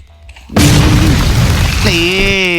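A sudden loud explosion bursts in a Roblox shooting game, followed by a sustained roaring rumble and a rising whistling tone near the end, all close and dominant.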